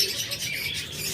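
Cockatiel pair, a lutino female and a grey male, chirping in short bright calls over steady background noise, brief and fairly close.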